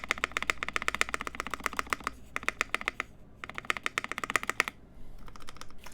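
Keys clack on a Rama Works M65-A mechanical keyboard in quick, crisp bursts of typing, with a few short pauses between runs, close and fairly quiet.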